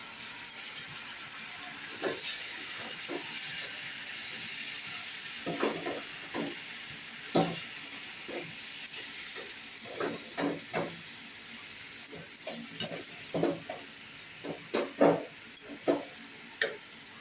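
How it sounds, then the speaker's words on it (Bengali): Jaggery being stirred into sweet pickle in a pan, with steady low sizzling and hissing as moisture cooks off, broken by scattered scraping and knocking strokes that grow louder and denser toward the end. "এবার নাড়াচাড়া করছি, জল বেরিয়ে যাচ্ছে"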